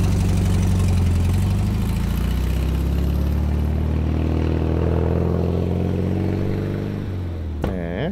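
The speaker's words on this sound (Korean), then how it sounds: "폭스바겐이 옛날 폭스바겐이 이런 소리였군요." An old Volkswagen car engine idles with a steady, close, clattering rumble for several seconds, then shuts off near the end.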